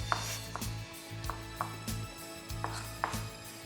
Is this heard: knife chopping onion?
yes